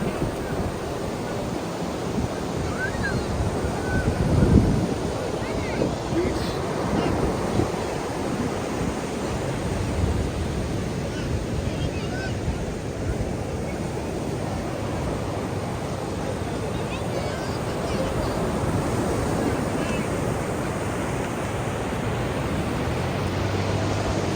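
Continuous wash of sea surf rolling onto Perupalem beach, steady and fairly loud, with some wind buffeting and a brief bump near the middle.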